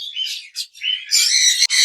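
Small birds chirp and squawk close by in quick, overlapping calls, bright and continuous with a brief break.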